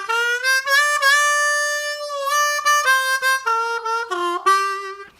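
A harmonica plays a short lick of draw and blow notes, including a half-step bend, as a run of clear, close reedy tones with pitch steps and slides, played alone.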